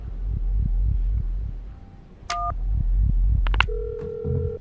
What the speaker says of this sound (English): The slowest phone dial of all time.